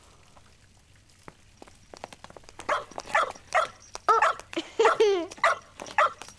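An animated cartoon dog barks and yips repeatedly in quick, excited bursts, close and loud, with a short vocal exclamation in between.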